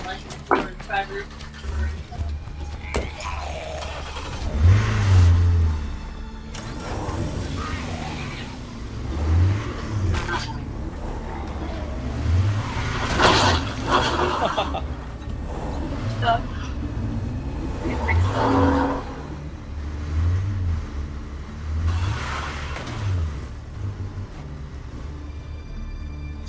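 Car engine in State of Decay 2 revving and accelerating while driving, rising and falling in pitch with repeated low thumps, heard beneath frequent conversation from several people.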